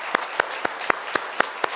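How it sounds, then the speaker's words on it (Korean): Scattered claps from a church congregation welcoming newly registered members during a Sunday service, about seven sharp, evenly spaced hand claps over a faint room background. "우리 오늘 등록하셨는데 큰 박수로 함께 환영하겠습니다."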